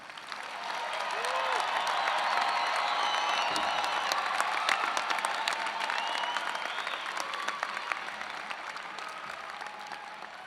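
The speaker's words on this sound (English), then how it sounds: "Let's give our bachelor's degree candidates one more round of applause" Applause and scattered cheering ring out for bachelor's degree graduates at an engineering commencement ceremony, a broad sustained wave of clapping that builds, peaks and slowly thins, with occasional whoops rising above it.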